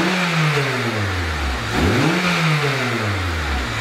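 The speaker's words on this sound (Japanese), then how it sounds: "じゃあちょっと吹かしてみたいと思います。" A Honda Integra Type R engine idles, then revs up sharply once and falls back to a steady idle, loud and close.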